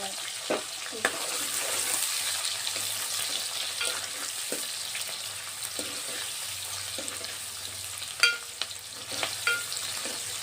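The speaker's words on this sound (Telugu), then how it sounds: "నూనె కాలినాక జీలకర్ర కొంచెం జీలకర్ర వేసుకొని" Cumin seeds frying in hot oil for a Telangana-style fish curry give a steady close sizzle and crackle, with a few sharper pops and stirring clatters throughout.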